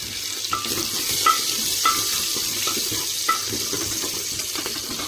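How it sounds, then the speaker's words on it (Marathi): Four or five whole green chillies fry in a pan for varan bhaat, giving a steady sizzle with regular scraping stirs and clinks of the spoon, close up and without talk. "4 ते 5 आहे ना मिरची आपण घेतलेल्या हिरव्या, भाजून घेऊया, चांगलं फ्राय होऊ देऊ।"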